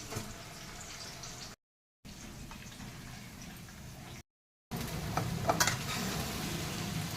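Masale bhat is stirred in a pot, a soft continuous sizzle with light scraping and a few sharper clinks near the end, broken by two short silent gaps and no speech.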